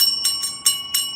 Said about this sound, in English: You get the bell.